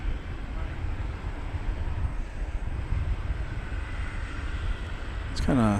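Qantas jet airliner engines idle at DFW Airport at night as a steady, broad roar that holds through the clip, with someone talking over it near the end.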